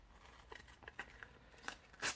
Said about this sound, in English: cutting masking tape with these scissors